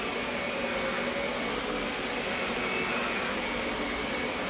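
Lindhaus Healthcare Pro twin-motor vacuum cleaner running steadily, a loud, constant broadband whoosh with a high whine on top, close and alone with no talk.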